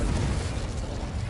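Confringo blasting spell explosion in Hogwarts Legacy, a dense, rumbling burst of noise filling the whole moment, loud and close with no voices.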